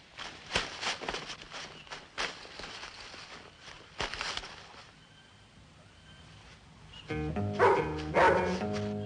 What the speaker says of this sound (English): Run for it, Jeff. I'll try and hold the dogs